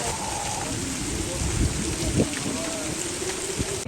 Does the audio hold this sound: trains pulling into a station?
no